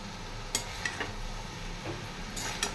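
A spatula scrapes and clinks against a small wok as chowmein is stirred into vegetables, with several sharp taps and a soft steady sizzle underneath.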